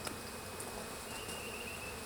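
A steady, close insect buzz hums throughout, the drone of many honey bees around a Flow hive.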